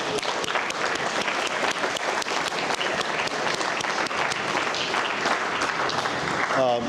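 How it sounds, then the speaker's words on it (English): A crowd at a captain's circle ceremony gives a steady round of applause for the families, with many hands clapping in a dense, continuous patter and faint voices mixed underneath. "First off, I'd like to offer a round of applause to the families."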